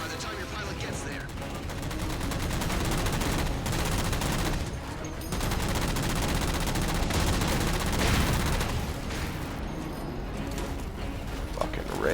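Heavy gunfire from Apex gun emplacements during a Halo Spartan Ops beach battle, a dense, continuous barrage of loud shots and explosions under game music, with brief dips in intensity.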